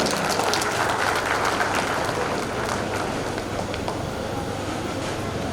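Sustained dense applause from an audience at a political speech event in LB Nagar, steady and fairly loud throughout with no pauses.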